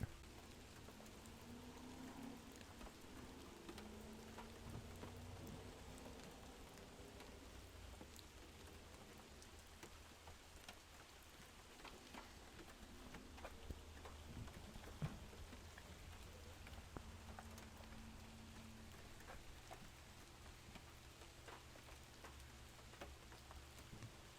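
Rain drums steadily on the roof of a parked car during a storm, a dense patter of drops with occasional sharper hits, continuous and fairly faint with no talking.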